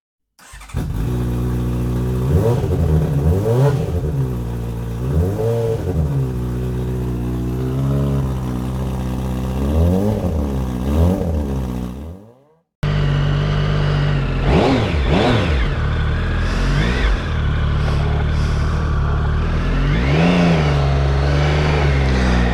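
A Triumph Sprint ST 1050 motorcycle fires up and is revved repeatedly, its engine rising and falling in strong, close blips over a steady idle, with a brief cut partway through.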